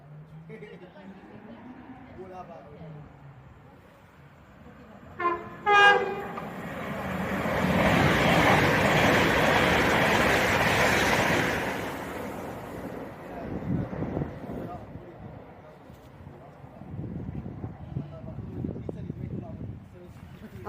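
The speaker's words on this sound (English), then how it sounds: "The final 323s in the Midlands. Does not stop here." A British Rail Class 323 train runs non-stop through Stechford station in the Midlands, a brief tonal blast preceding a loud, sustained rushing roar that swells and fades over several seconds, with station announcements and nearby talk around it.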